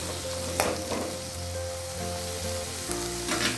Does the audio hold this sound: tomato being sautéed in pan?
yes